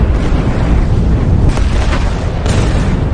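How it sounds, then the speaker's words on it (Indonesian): Grenade explosions in an action film: dense, heavy rumbling booms with sharper bursts layered on top, loud and continuous across the whole stretch without speech. "dengan beberapa granat yang dia bawa, Ray berhasil meluluhlantakkan pasukan tersebut sampai benar-benar tak berdaya"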